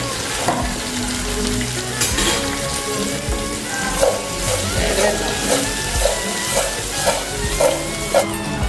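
Bottle gourd pieces and other vegetables sizzle and fry steadily in a pan of hot oil for majjiga pulusu, with loud continuous crackling and repeated scraping stirs and no voices.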